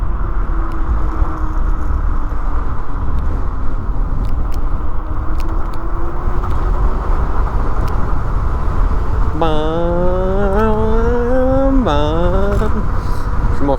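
An Angwatt T1 3.0 electric scooter, 60V and 6000W, is ridden outdoors. Steady loud road and wind rush runs throughout, joined near the end by a rising and falling motor whine.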